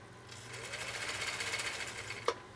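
A Brother sewing machine whirs briefly at a very short 0.5 stitch length, a close, even mechanical hum with fine rapid ticking, ending in a single small clunk.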